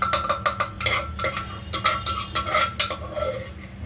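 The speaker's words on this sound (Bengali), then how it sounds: "আমি দুটো বাটিতে দুজনের জন্য বেড়ে ফেলছি বাপ ব্যাটার।" Millet pulao is scooped from a pot into two bowls with repeated scraping clinks of a metal spoon, close and busy, and no voices.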